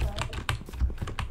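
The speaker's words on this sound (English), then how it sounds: "I'm really sorry if you hear my keyboard and mouse" Rapid, uneven clicking of computer keyboard keys and a mouse during a Minecraft gaming session, close to the microphone, with about a dozen sharp taps in quick succession.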